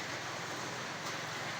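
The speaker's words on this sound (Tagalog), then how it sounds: "Yung malakas yung ulan sa bukid." Heavy rain pours steadily on a farm, a dense continuous hiss of drops with no pauses or other sounds breaking through.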